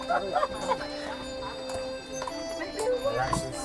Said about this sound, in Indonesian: Kudanya udah jalan.